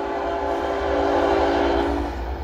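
A train rumbles steadily past with a sustained horn tone layered over the roar of the cars, loud and continuous.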